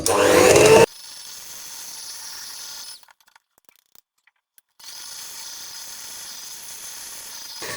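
An electric mixer whisks chocolate mousse cream, a loud burst of motor whirring at first, then a steadier, quieter high whine that cuts out for a couple of seconds before resuming.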